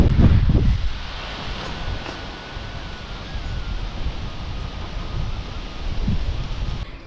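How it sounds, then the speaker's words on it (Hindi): Cool wind blowing at the hilltop temple of Maa Kalinka in the Uttarakhand mountains, gusting against the microphone in a strong burst at first, then a softer steady rush that swells again near the end. "यहाँ पे इतनी प्यारी ठंडी हवा चल रही है ना"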